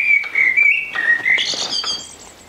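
Chaffinch song played back: a bright, continuous run of high whistled notes that rises into a rapid trill toward the end, clear and fairly loud with no voices over it.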